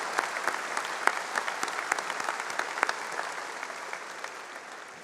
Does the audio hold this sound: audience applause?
yes